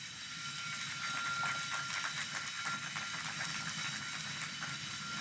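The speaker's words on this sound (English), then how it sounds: "Mario, you see that train right there?" A freight train rolls past at the Port of Long Beach, a sustained broad rumble and rushing roar with a faint high squeal, steady and moderately distant with no voices.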